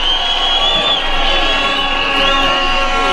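A large outdoor crowd cheers and whoops loudly and steadily for the presentation of the national flag at an official ceremony in Nakuru, a continuous roar of voices with high shouts rising throughout.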